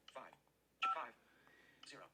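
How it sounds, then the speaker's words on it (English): iPhone dialing tones, a few faint, short electronic beeps separated by pauses in a quiet setting. "So we're going to dial the phone number of the weather line here in Minnesota to check the weather."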